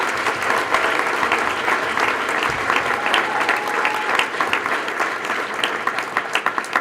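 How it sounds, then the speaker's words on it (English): A university engineering award ceremony crowd applauds the nominees with sustained, dense clapping from many hands, even and full throughout nearly seven seconds, a few louder claps popping out near the end. "Can we give them all a round of applause?"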